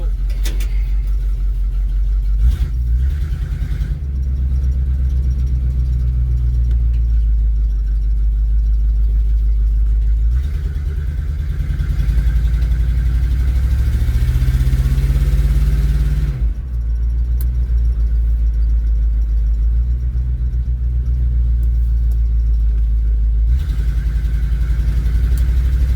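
A 1977 Chevrolet Cheyenne C10 pickup truck drives around the block, its engine a loud steady low drone that rises and falls as it accelerates and shifts, heard from inside the cab.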